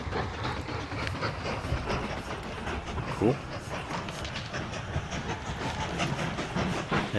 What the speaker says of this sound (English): So this train can do 56.